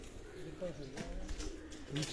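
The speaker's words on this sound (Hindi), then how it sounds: "ये जो कबूतर आप देख रहे हैं" Soft pigeon coos repeat at low pitch amid a busy background, with a person talking nearby over the cooing.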